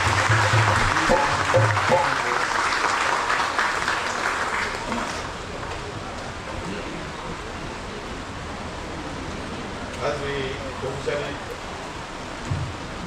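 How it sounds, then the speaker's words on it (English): An audience at a Diwali celebration in West Palm Beach, Florida applauds the interfaith community, a dense wash of clapping that fades after a few seconds into quieter crowd murmur. "Will you give the members of the interfaith community a round of applause?"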